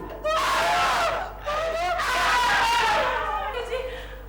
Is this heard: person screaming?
yes